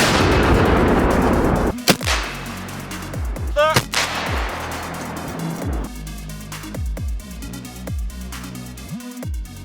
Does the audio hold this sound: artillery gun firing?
yes